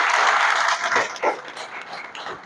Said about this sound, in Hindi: भाई एक बारी तालियां पीछे बैठे हमारे साथी,